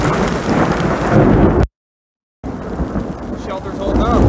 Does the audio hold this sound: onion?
no